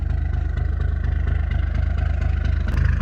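A bus engine with a fried turbo and no boost idles steadily on its own, a constant low throbbing rumble, close and continuous.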